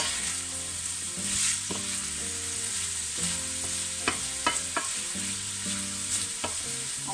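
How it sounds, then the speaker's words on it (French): Endives sauté in a pan under a constant hiss of frying, with sharp clinks and scrapes of a utensil stirring at irregular moments, close and clear, nobody speaking. "Vous remuez régulièrement pour éviter que ça brûle."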